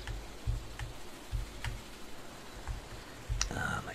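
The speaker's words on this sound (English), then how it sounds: "For something with membrane keys, it's awfully loud." Membrane computer keyboard keys click during a farming game session, a loose run of sharp, fairly loud taps spaced unevenly, with a soft thump from the desk and a brief louder rustle near the end.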